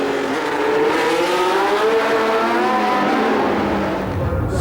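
A 1976 Ferrari T2 Formula One race car with a transverse-mounted gearbox screams past at high revs, its engine note rising and shifting steadily through the whole stretch, loud and close with no talk over it.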